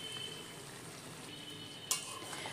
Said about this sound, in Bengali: এবারে আমরা এর মধ্যে দিয়ে দেব আগে থেকে ভেজে রাখা পটল।